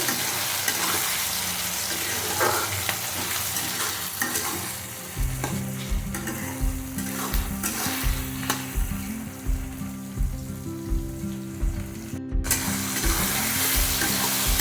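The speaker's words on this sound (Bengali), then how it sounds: "একটা টমেটো কুচুনো দিয়ে দেবো লবণ দিয়ে দেবো দিয়ে মিশিয়ে দেবো" Pumpkin greens fry in a pan as chopped tomato and salt are stirred in: a steady sizzle throughout, joined about midway by close, rhythmic scraping stir strokes.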